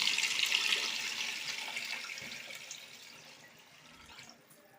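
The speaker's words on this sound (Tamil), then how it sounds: "இப்போ தண்ணி ஊற்றிடலாம்." Water poured into a cooking pot on the stove for cooking rice, a steady splashing pour that is loud at first and then gradually thins and fades, with no talking.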